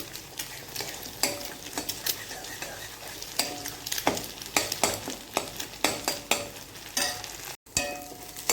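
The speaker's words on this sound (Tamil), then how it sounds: "இப்போ இதை நம்ம கிளறி விட்டுக்கலாம்" Leftover idiyappam pieces and egg are stirred and scraped in a pan over gentle sizzling frying, with repeated utensil scrapes and clinks at an irregular rhythm, close and clear, no talking.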